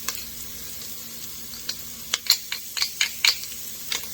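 Garlic sauce for pizza fries sizzles steadily in a pan, with a spoon scraping and stirring in sharp, irregular clicks over the constant hiss, close and fairly quiet.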